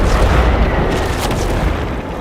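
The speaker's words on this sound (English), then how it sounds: "That was the old Macross cannon." An old Macross cannon in the Warframe video game fires with a loud, deep, rumbling boom that fills the whole stretch with heavy low-end roar.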